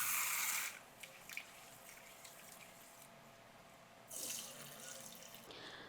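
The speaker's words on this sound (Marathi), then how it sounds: "एक कप तांदूळ घ्यायचा आता तांदूळ स्वच्छ धुवायचा आहे" Rice being rinsed with running tap water in a sink, a loud gush at the start and again near the end, with quieter trickling and drips between.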